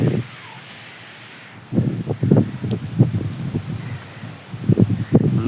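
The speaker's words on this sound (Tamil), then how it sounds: "நல்லா காற்று அடிச்சிக்கிட்டு இருக்குது. மழை சரியான மழை பெய்யுது." Wind gusts through trees during heavy rain over a village with open fields, a low rushing roar with rustling leaves, building to steady loud gusts after a brief quieter start.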